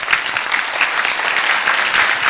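An audience at a talk for military cadets breaks into loud, dense clapping that carries on steadily throughout, with no voices standing out.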